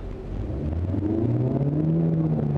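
A car engine rises in a steady rev as the driver gives it more throttle during a driving practice maneuver, a close, continuous hum climbing in pitch with no talking.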